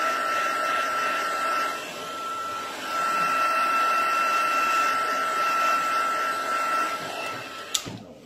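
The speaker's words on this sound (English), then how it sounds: "I'm just going to put the heat on the back as well, because that helps just straighten the cardstock out." A heat tool blows hot air onto the back of cardstock with a steady, close hairdryer-like whoosh and a high whine for several seconds before shutting off with a click.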